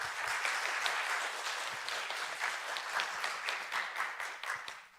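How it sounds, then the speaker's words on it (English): Audience applause at a live tech event on a university campus in Singapore, steady dense clapping from a crowd sustained for about five seconds before tapering off at the end. "let's take a round of applause for the day's proceedings"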